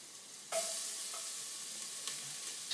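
Soft, steady sizzling from hot oil in a pot as garlic fries, with a brighter burst of frying partway through and faint stirring clicks.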